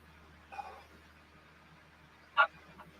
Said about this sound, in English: It ain't kids, it's dogs.